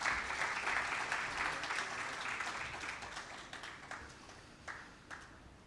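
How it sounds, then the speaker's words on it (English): Audience applause for an event organizer at a national pension workshop, with a dense crowd clapping loudly from the start and gradually thinning, with a few isolated claps near the end. "I think he deserves a round of applause."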